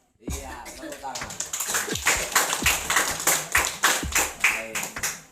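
A classroom of students claps their hands in rhythmic bursts, sharp repeated claps close by, with a teacher's voice heard briefly at the start.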